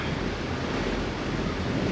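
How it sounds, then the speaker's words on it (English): Choppy sea with short, quick waves, heard from aboard a boat: a steady, loud wash of water mixed with wind buffeting the microphone. "It's like 4-second intervals on the waves at the moment, so it will be a choppy ride"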